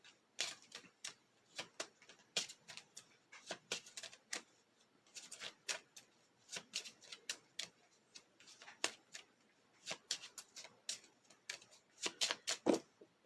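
Cards from a game's activation deck are shuffled by hand in irregular clusters of crisp clicks and riffling snaps, close and sharp against a quiet room, with no talk.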